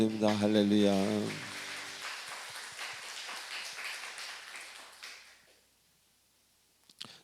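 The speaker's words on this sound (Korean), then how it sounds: "우리 하나님께 영광의 박수를 드립니다" A congregation applauding during a Sunday church service: after a brief sung or spoken phrase, a dense crackle of many hands clapping at moderate distance, thinning and fading away into near silence.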